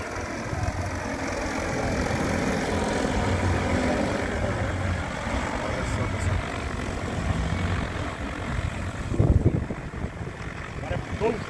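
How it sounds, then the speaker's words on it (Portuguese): A 50-litre agricultural drone flies in an outdoor demonstration at a farm show, a steady buzzing propeller drone sustained at a moderate distance, with a brief thump near the end. "estão fazendo uma demonstração do drone aqui"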